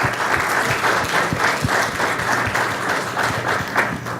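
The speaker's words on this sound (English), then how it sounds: "And how about let's give them a round of applause again." A meeting audience at a city budget session in Portsmouth, Virginia applauds presenters: steady, dense clapping from many hands, fairly close and sustained throughout, with no talking over it.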